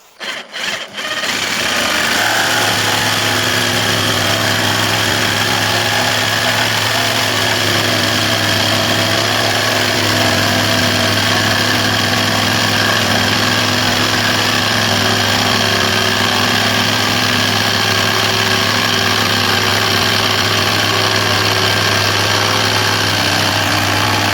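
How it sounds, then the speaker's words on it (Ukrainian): A cordless LEADER Lite BD20-65M jigsaw with a T101B blade cutting particleboard and plywood runs loud and steady for the whole stretch, a continuous buzzing whine after a few brief starts at the beginning. "І будемо різати ДСП та фанеру. Спочатку спробуємо прямий різ."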